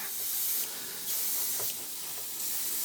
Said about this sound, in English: So all I'm really doing is going in with the airbrush and giving it a bit of a gradient from dark to light